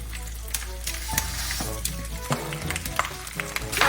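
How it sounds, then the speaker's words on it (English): Pork frying in a hot pan for dongpo pork, a steady close sizzle with scattered sharp pops and crackles of spattering fat, no voices. "Now I'm gonna fry the kogi."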